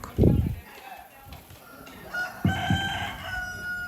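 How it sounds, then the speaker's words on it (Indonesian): Chickens gathered for slaughter at a Rambu Solo' funeral ceremony in Parinona, Malakiri, with a rooster crowing nearby in two loud bursts over a background of clucking and murmured voices. "Saat ini sudah dikumpulkan beberapa ayam yang akan dipotong hari ini"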